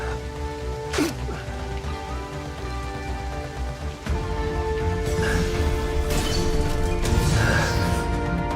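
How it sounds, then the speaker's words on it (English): Steady rain falls and patters on surfaces in a continuous wash, growing slightly heavier partway through, with faint scattered sounds and a low background hum. "This mournful rain falls on and on unceasing."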